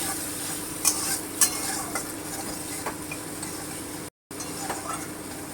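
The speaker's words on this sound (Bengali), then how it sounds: "ধনে গুঁড়োটা দিয়ে দিলাম একটু নেড়ে নিচ্ছি" Coriander powder is stirred in a frying pan with hot oil while cooking stuffed pointed gourd, a soft steady sizzle broken by a few sharp utensil clinks against the pan, nearby and without speech.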